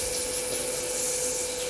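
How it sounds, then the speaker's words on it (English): A turned wooden egg cup sanded by hand with sandpaper in a woodshop, a steady, continuous close rubbing hiss with no pauses and no speech. "we're going to go ahead and hit it with a little bit of sandpaper"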